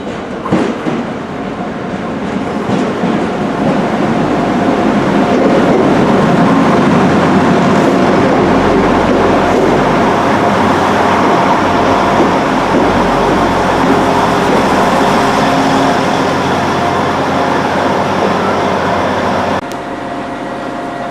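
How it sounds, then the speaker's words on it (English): Transport for Wales Class 175 diesel train arriving on a service to Cardiff Central, a loud sustained rumble of engine and wheels on rail close by, with faint clickety-clack throughout. "Here comes the 1850 Transport for Wales service to Cardiff Central."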